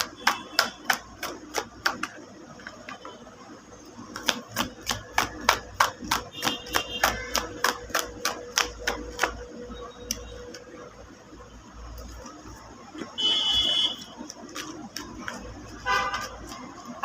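Tarot cards are shuffled in a full shuffle, rapid bursts of crisp riffling clicks in quick rhythmic runs, pausing and resuming, with a voice speaking briefly alongside.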